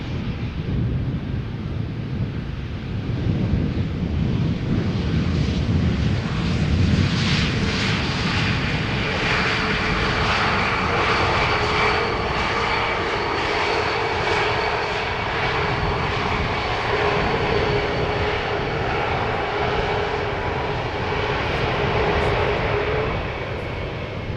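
Cargo jet engines roar steadily at Schiphol Airport, a continuous loud rumble with a rising whine as the aircraft passes, sustained for the whole stretch without talk.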